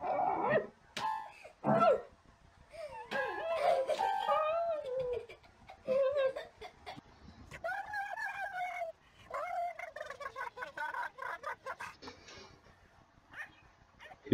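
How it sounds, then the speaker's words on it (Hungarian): A dog vocalizing in a musical, sing-song way, with a string of howling, yodeling, pitch-bending cries broken by short pauses and a few sharper barks, loud and close, filling most of the clip. "Kutya zenész."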